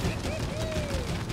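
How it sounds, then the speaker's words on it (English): Cannons firing at a plane in the video game It Takes Two, a dense rattle of rapid explosive bursts with a whistling tone sliding through, loud and close. "Oh, we have more freaking cannons at us."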